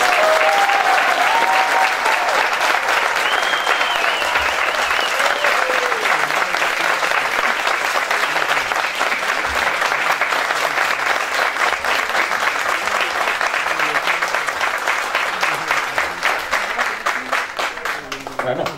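Sustained applause from a crowd at a neighborhood assembly in Prados del Este, Baruta, loud and steady throughout with faint voices mixed in, tapering slightly near the end.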